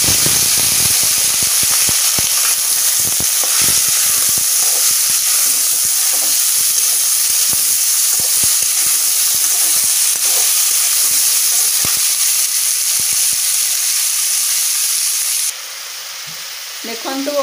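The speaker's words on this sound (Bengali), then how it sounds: "এবার করমঙ্গা দেবা।" Sliced carambola dropped into a pan of frying onions, a loud continuous sizzle and hiss with scattered stirring clicks, close up, dropping to a quieter sizzle near the end.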